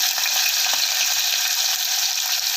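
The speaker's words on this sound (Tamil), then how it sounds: "வெங்காயம் நல்லா போட்டுட்டு நல்லா வதக்கி விட்டுறணும்" Chopped onion sautés in hot oil in a pan for a ridge gourd and moong dal stir-fry, making a continuous bright sizzle with faint stirring scrapes, steady and close, with no one speaking.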